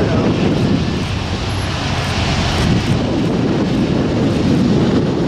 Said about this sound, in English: Here's a Lufthansa A380 about to depart out of LAX.